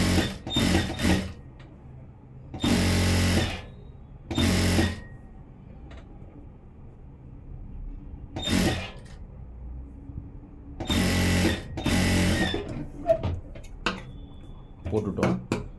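A sewing machine runs stitching along the fall and piece of a blouse, in several short bursts of a few seconds each, close and fairly loud, with quiet pauses between runs.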